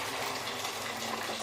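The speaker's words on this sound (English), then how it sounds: "we just pour the water in just for now" Water pours steadily into a cooking pan in a home kitchen while preparing chicken Alfredo, a continuous close gushing splash at moderate level with no talk.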